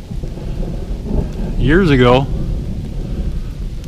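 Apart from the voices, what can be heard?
thunder rumbling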